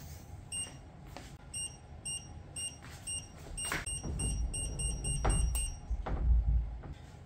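A UV-C lamp's timer gives a run of short, sharp electronic beeps in evenly spaced pairs, followed by some low rumbling handling noise near the end.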